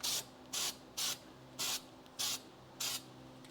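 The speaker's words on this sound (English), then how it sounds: "Do a couple test sprays." Six short hissing bursts of gray Steel It spray paint, evenly spaced about half a second apart, loud and close over a low steady hum, with no talking.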